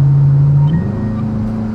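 A 2010 Chevrolet Camaro SS with a V8 engine revs once. A loud, close engine note climbs in pitch, then settles into a deep, steady idle rumble without speech.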